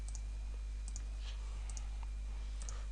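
Soft computer mouse clicks while selecting the circle tool in AutoCAD, several light ticks in a quiet room over a steady low electrical hum.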